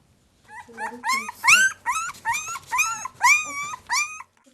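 Several puppies whimper and yelp in a run of high, wavering cries, close by with short pauses between them.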